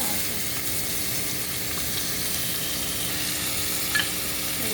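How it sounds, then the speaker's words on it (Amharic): Onion frying in hot oil gives a steady, even sizzle with a crackling hiss throughout and only a faint stir or tap near the end. "እዚህ ጋር የጋለ ዘይት አለኝ። ሽንኩርት ጨምራለሁ ማለት ነው።"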